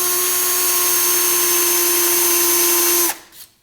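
Power drill whining at a steady high pitch, loud and close, as it bores a small divot into a car body spot weld, then winding down and stopping near the end.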